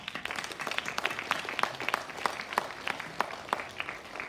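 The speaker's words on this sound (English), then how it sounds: "let us give a big hand of applause to all of them." Audience at a primary school investiture ceremony clapping, a continuous patter of many hands at moderate distance, steady throughout with no voices over it.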